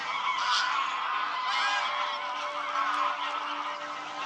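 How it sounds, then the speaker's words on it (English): A large flock of greylag geese in stubble fields keeps up a continuous chorus of overlapping honks, dense and steady at mid distance, with no gaps and no voices. "There's quite a substantial flock of grey lags in the stubble fields now, and more coming in all the time."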